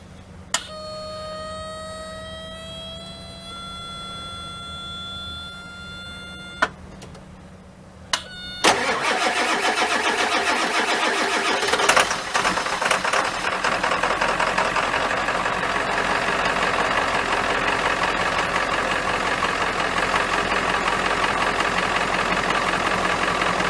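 Ford Powerstroke diesel engine, repaired for stiction, cranks briefly and then fires and runs steadily and loudly close by, with a continuous rough diesel clatter and no voices.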